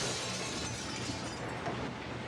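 Glass crashes and shatters into a sustained, hissing spray of fragments, a muffled, fairly quiet burst with no voices.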